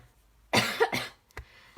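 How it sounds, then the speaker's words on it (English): A person coughs twice in close succession, loud and near, followed by a fainter short cough after a brief pause, with no talk over it. "I still do have just a niggle of a cough left."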